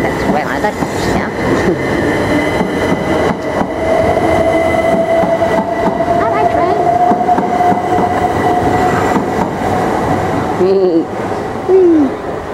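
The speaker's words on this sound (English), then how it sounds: "Oh, look, there's my train. I can see my train coming." A train rumbles loudly past a station platform at Barnham Station, with rattling wheels and a sustained whining tone, ending with a couple of short squeals.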